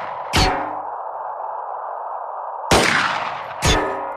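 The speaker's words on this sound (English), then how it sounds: "You run into the building and you're shooting at something." Gunfire in the strategy game Xenonauts: three sharp, loud shots, one near the start and two close together near the end, each followed by a fading ring over a steady electronic hum, with no talk.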